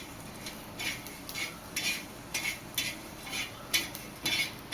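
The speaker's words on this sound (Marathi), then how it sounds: "धण्यामध्ये थोडंसं तेल घालायचे भाजताना आणि धणे सुद्धा आपल्याला जास्त वेळ नाही भाजायचे" Coriander seeds roasting in a little oil in a pan, a quiet clip with a rhythmic series of about a dozen light scraping stirs and clinks of a spatula against the pan, with no talking.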